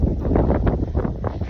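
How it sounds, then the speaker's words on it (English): Steady, roaring gusts of wind from a blizzard outside buffet the microphone, loud and continuous with rough rushing swells and no voices. "It is windy."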